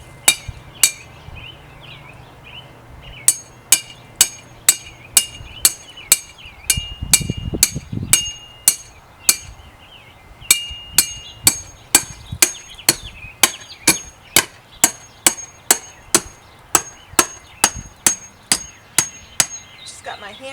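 Sharp hammer blows strike steadily, dozens of evenly spaced ringing metallic hits close by, with a brief low rumble partway through.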